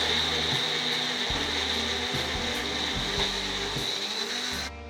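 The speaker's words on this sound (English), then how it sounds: "just run this both together in your mixie" A mixer grinder whirs steadily while blending paneer and mawa, a loud continuous motor whine with slight pitch shifts as the mixture churns, cutting off abruptly at the end.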